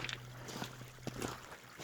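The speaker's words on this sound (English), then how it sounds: "just listen to the creek, which doesn't change the sound" A quiet creek trickling and sloshing over its bed, soft and steady, with a faint low hum underneath.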